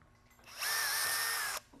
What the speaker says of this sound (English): take your hand off here, put it on top of the drill